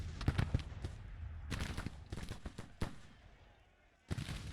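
Musket volleys crackle across a Civil War battlefield in a strategy game, with sharp clustered shots at the start, scattered reports through the middle, a brief lull, then a fresh burst of firing.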